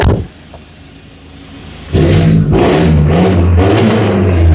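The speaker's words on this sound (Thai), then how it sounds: "ฟังเสียงท่อนิดหนึ่ง" A quiet engine idle, then a remapped Isuzu D-Max pickup truck's exhaust revs loudly several times in quick succession, close by with a deep rumbling roar.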